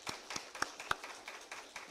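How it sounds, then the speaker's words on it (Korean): A church congregation claps for the choir, a handful of separate, fairly faint claps in an uneven rhythm that fade into lighter taps. "우리 찬양대 박수 한번 쳐주세요."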